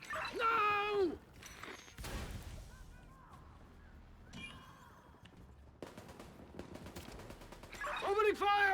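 Bursts of video game gunfire, including rapid machine-gun-like volleys and scattered shots, ring out at moderate loudness among game effects, with a person talking intermittently over them.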